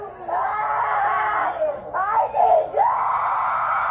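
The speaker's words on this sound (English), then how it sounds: "listen to a little boy scream like this" A little boy screams and wails loudly and continuously, with brief breaks in between shrill, strained cries.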